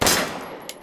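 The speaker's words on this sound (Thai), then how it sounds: "ยิงปืนก่อนแล้วกันนะครับจะยิงมือเดียวก็ได้แต่สองมือเนี่ยมันจะนิ่งและแม่นกว่า" Gunshots fired in Resident Evil Village on PSVR2 at a target range, two loud sharp blasts opening and closing a short burst with a fainter report between.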